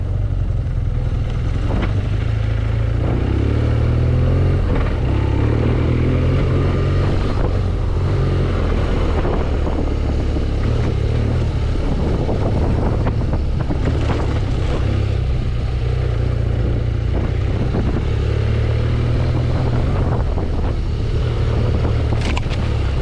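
Adventure motorcycle ridden along the High Point Truck Trail, a dirt road near Palomar, its engine a steady, loud drone that holds throughout, with bumps and wind buffeting over the top and no talk.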